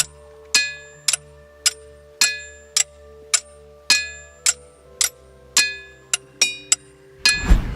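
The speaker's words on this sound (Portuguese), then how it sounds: "O som que elas produzem nos faz pensar que elas não são feitas de mineral rochoso, pois emitem um som metálico." Ringing rocks struck one after another, each blow giving a bright metallic clang with a short ringing decay, about a dozen strikes at an irregular steady pace, close and clear, ending in a rougher clattering hit.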